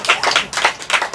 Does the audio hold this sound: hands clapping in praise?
yes